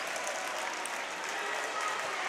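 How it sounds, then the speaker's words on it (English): A loud crowd roars and applauds steadily at a high school basketball game, a dense, continuous wash of cheering with no pauses. "The crowd is loud."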